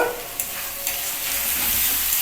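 Spicy eggplant slices frying in a pan, a steady close sizzle with a few sharp spatula-stirring clicks and no voices.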